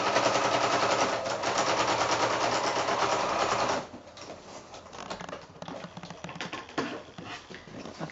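A sewing machine stitches binding onto a quilt in a fast, steady mechanical chatter that runs loud and close, then drops to a quieter, uneven run of stitching.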